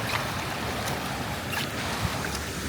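A bicycle ridden through a deep flooded street in Russia, with a continuous rushing wash of water and wind noise, loud and close throughout.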